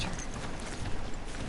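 Horse mount galloping in the Horizon Zero Dawn video game, a steady dense clatter of hoofbeats moving at pace, fairly quiet and continuous with no voice over it.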